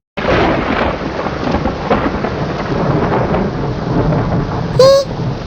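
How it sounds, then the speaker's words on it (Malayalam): Heavy rain with wind pours steadily with a deep rumble of thunder rolling underneath, a brief high chirp near the end, no talking. "പെട്ടെന്നാണ് കാറ്റും മഴയും വന്നത് ഓ മഴ പെയ്തല്ലോ"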